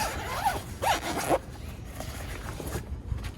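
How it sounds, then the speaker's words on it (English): A zipper on a mattress carrying case is pulled open in several quick rasping strokes, close by, followed by softer rustling of the fabric. "We're gonna go ahead and unzip this."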